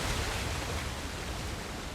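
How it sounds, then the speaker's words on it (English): Steady rushing roar of a waterfall in Uncharted: The Lost Legacy, a dense, even wash of falling water with no breaks or voices. "Another waterfall."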